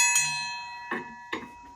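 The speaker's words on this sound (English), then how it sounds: "That's a... Dinner bell?" A dinner bell found in a house being cleared out rings with a bright metallic strike, followed by two more taps, its tone hanging and fading between hits, nearby and clear with no voices.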